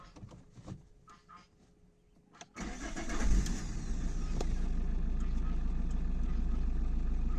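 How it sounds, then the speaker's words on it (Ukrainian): Opel Zafira B 1.9 diesel switched on and started after a fault repair: a few faint clicks, then the engine catches with a burst and settles into a steady, loud close idle. "Включаємо запалення."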